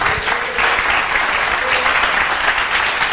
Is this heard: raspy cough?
no